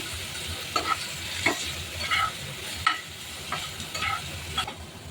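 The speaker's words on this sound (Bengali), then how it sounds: "এবার লবণটা ভালোভাবে মিশিয়ে একটু ভেজে নিচ্ছি।" Vegetables frying in a pan with salt, a soft continuous sizzle under irregular scraping strokes of a spoon stirring, close by and without talk.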